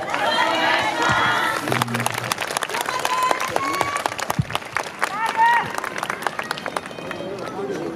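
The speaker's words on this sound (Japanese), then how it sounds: "皆様、大きなご声援、大きなお手拍子、どうぞよろしくお願いいたします。" Crowd cheering, shouting and clapping along at an outdoor dance stage performance at a festival, loud and busy with voices, whistles and rhythmic claps mixed with music.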